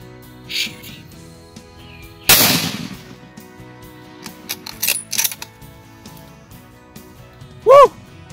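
A single loud, sharp 25-06 rifle shot rings out at a coyote in rural southwest Tennessee. It cuts through a quiet outdoor backdrop dotted with faint small sounds, and a brief high whistle-like call follows a few seconds later.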